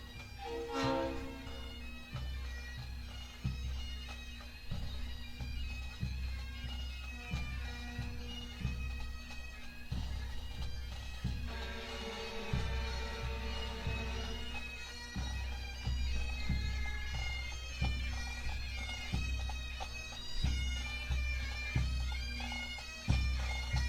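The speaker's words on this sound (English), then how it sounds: "it's the sound of those magical bagpipes" A marching pipe band playing outdoors in a Labour Day parade in Sarnia, sustained bagpipe drone and melody over steady drumming, moderately distant and continuous throughout.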